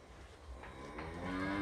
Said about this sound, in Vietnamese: Rất là to bò